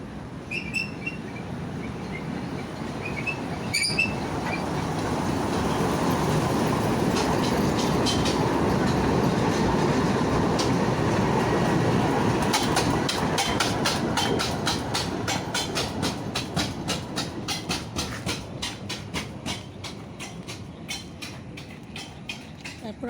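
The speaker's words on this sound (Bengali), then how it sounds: "ওই যে হাতিয়া চলে আসতেছে ট্রেনে করে" A passing train rolls by in a long, steady roar that swells and holds, with rhythmic clickety-clack of wheels on rail joints growing sharper toward the end, heard outdoors with a few faint bird calls early on.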